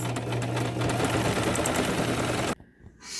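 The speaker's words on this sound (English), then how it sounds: "So I'm just sewing straight down over my pleats, sewing them in place." A sewing machine stitches straight down over the pleats of a fabric face mask, running as a steady, close mechanical whir for about two and a half seconds before cutting off into quiet handling.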